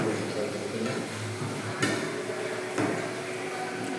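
Chicken cooking in a pan, a steady low sizzle with faint scraping and two sharp knocks of a utensil against the pan, heard close with no talk over it.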